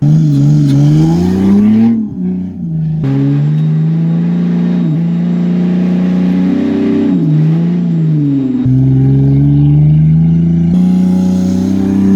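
Lexus GS300 drift car racing, its engine loud and close with sustained high revving, brief drops in throttle, and shifting pitch throughout.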